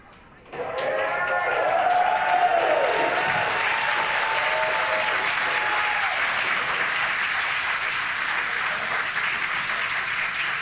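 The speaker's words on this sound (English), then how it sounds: "You can hear the cheer and the applause" A crowd at a SpaceX Falcon 9 Starlink launch bursts into cheers and sustained applause as the first-stage booster lands, rising suddenly and holding loud with whoops over continuous clapping.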